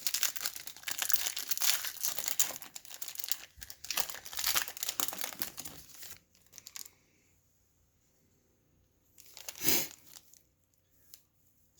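Crinkly plastic wrapper of a 2019 Series 2 baseball card pack tears and rustles in close, busy bursts, then goes quiet before one more short crackle.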